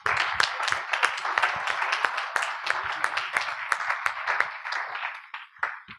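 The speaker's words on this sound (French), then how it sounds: "je pense qu'on peut applaudir nos intervenants" Audience applause in a conference amphitheatre at a hemp industry congress, with dense steady clapping from many hands for about six seconds before it thins out and fades.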